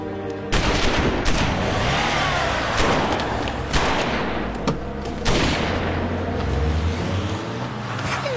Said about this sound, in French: Ils sont tirés sur nous comme ça.